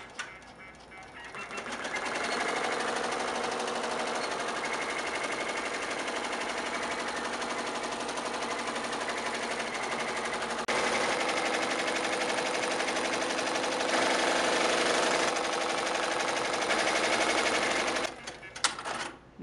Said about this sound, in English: machine does sew the running stitch placement